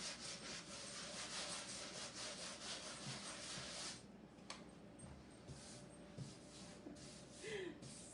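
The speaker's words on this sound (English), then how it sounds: "I have a little sanding block that I want to just first take and just lightly smooth out my paint." Steady back-and-forth rasping of a sanding block lightly smoothing painted wood, close up and continuous, easing slightly partway through.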